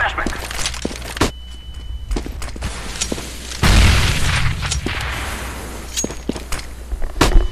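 Flashbang grenade detonating in CS:GO, a single loud burst partway through followed by a lingering ringing wash, with scattered gunshots and footsteps around it and players talking.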